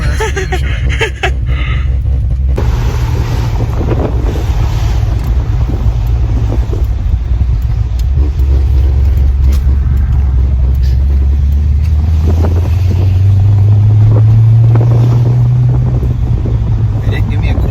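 A tuned Corvette C6 Z06 engine drones low and steady, then its note climbs as the car pulls harder, with constant wind rush and people talking inside the car.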